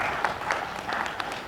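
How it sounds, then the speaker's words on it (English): Audience applause at a Kenyan e-commerce awards event, a short steady wash of many hands clapping with a few sharper individual claps standing out. "Round of applause, please."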